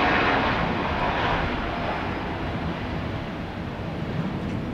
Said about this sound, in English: Southwest 3952, Tampa Tower, runway 1 on the right, clear for takeoff.